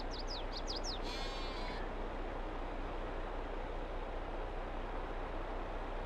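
Sheep bleat in a farming video game, a short run of quick high bleats in the first two seconds over a steady hiss of ambient noise that carries on alone afterward.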